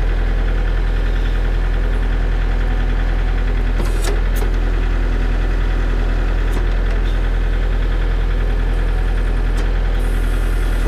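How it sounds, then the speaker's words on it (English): A Kubota BH92 backhoe idling loudly and steadily up close, its mid-range diesel engine drone continuous while the hydraulic thumb is worked by foot pedal, with faint clunks and brief hydraulic strain over the engine. "Now we'll manipulate this foot pedal and see what happens at the thumb."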